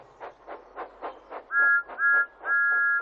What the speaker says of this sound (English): Thomas likes his whistle